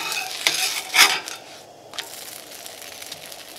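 Wheat dosa frying on a hot pan as it is turned over, with soft sizzling and a couple of brief scraping clicks from the spatula near the start, then a quieter steady hiss.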